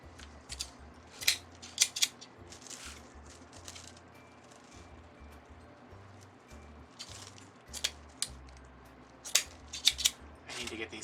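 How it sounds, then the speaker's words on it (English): Scissors snipping deco mesh ribbon while trimming a large wreath bow: a few sets of quick, crisp cuts come close to the microphone and are separated by quiet rustling of the mesh. "I need to get these scissors sharpened."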